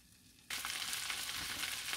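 Fish frying on parchment paper in a pan starts up suddenly as a loud, bright, continuous sizzle with crackling spits. It stays steady to the end with no talking.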